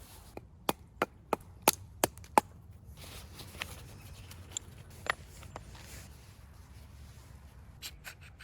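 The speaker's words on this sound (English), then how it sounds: "The inside of these big logs are dry, so you can split them apart" Sharp wooden cracks and chops ring out as big logs with dry insides are split for firewood at a rainy campsite, a quick run of evenly spaced strikes followed by scattered fainter knocks and splintering.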